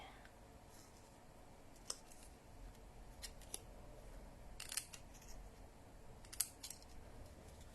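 Scissors cutting through paper card for a folded greeting card: several sharp, close snips spaced irregularly over a quiet room background, with a couple of louder cuts near the end.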